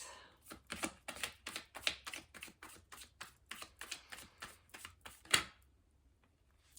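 Tarot cards being shuffled by hand, a quiet series of quick, crisp riffling bursts in a steady rhythm, close and alone without talk, ending with one sharper snap before falling silent.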